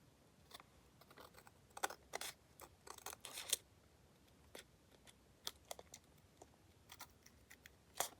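Sticky scissors snip paper ephemera close by in short crisp cuts, some in quick clusters, separated by quiet pauses.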